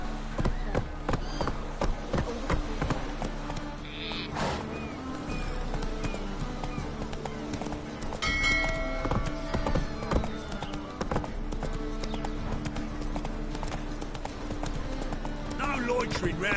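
Roach, a horse in a video game, gallops with a steady run of hoofbeats under game ambience, with occasional whinnies and a few other game sounds mixed in.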